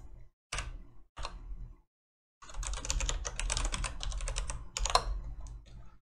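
Code being typed on a computer keyboard in an Elixir programming lesson: a few separate key taps, a short pause, then a fast, continuous burst of close clicking with one sharper stroke near the end.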